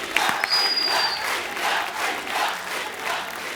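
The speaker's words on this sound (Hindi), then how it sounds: "जोरदार तालियां" Audience applause and cheering fill a TV comedy show studio, a steady, dense wash of clapping that continues evenly throughout.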